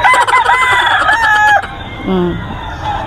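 Gamefowl roosters at a market in Bocaue, Philippines, crowing loudly and close, with a long cock-a-doodle-doo followed by a shorter, lower cluck-like call.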